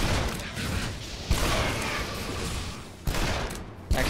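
Gunfire in the 2013 Shadow Warrior first-person shooter: dense, noisy shooting runs through the whole stretch, with sharp louder shots punching out at intervals above the steady roar.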